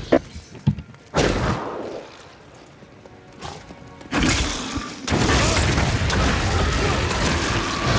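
Grenade blasts in the Diablo 3 video game, several heavy booming thuds in quick succession followed by sustained rumbling explosion noise, with a voice talking over parts of it.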